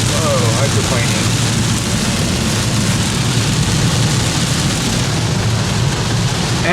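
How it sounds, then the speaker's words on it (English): Heavy rainstorm drumming on a moving car in California, a dense, loud, steady wash of rain and road spray over low tire and engine rumble, continuous throughout with no pauses. "I am driving in a heavy rainstorm."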